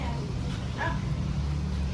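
A single short dog bark rises briefly over a low background murmur and rumble.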